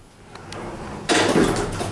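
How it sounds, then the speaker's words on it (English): An OTIS Gen2 elevator door that needs adjustment slides along, then meets with a sudden louder rumbling burst partway through, with faint clicks beforehand and cab hum throughout. "you can hear the door needs some adjustment"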